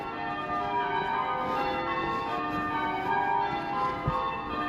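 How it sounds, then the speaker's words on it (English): Cathedral church bells ringing on a city walls walk, a steady sustained ringing tone with overlapping harmonics that fills the scene throughout, moderately loud and continuous with a brief thump near the end. "I'm not sure if there's actually bell ringers in there"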